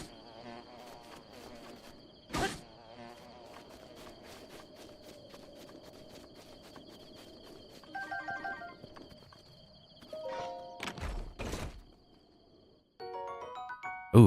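Bees buzz in the video game Zelda: Breath of the Wild, a continuous insect drone with a few sharp hits, footsteps and game effect sounds cutting through.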